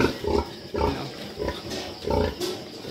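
A pig on a farm grunts in a repeated rhythm of short, low, rough bursts, close by and alone, with no talking.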